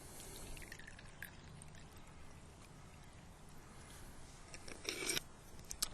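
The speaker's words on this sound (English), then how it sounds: "So you just pour your meths into the middle," Methylated spirits poured slowly into the centre of a White Box alcohol stove, a soft, quiet liquid trickle close up, with a brief louder splash near the end.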